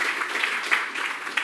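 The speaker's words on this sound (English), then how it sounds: "you can give her a round of applause if you want." A conference audience applauds in a dense, steady patter of many hands, heard close and continuous over a short stretch.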